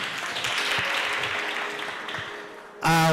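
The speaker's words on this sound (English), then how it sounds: "Round of applause to her again." Festival audience applause fills a hall in a steady, moderately loud wash of clapping, fading slightly before an abrupt loud tonal burst cuts in at the end.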